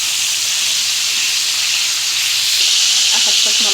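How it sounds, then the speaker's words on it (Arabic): Sausage sears in hot oil with a loud, continuous sizzling hiss that fills the whole stretch, and a voice briefly comes in near the end. "تشويحه كده في الزيت وهو سخن."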